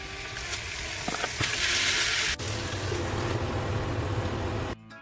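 Kangaroo meat burger patty frying in an oiled flat pan, a steady broad sizzle running continuously and fairly loud, with a brief sharp clink near the middle before it cuts off at the end.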